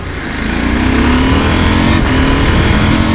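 Husqvarna Norden 901 motorcycle engine accelerating hard through the gears on the street, a loud, steady, rising engine drone held close throughout with no talk.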